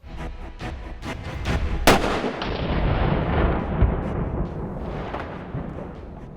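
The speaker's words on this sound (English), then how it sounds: "Now we have seen a rifle hit of a caliber 308" .308 caliber rifle shot striking a ballistic helmet during a live demonstration, heard as a few softer cracks, then a very loud sharp report followed by a long rolling echo that slowly fades outdoors.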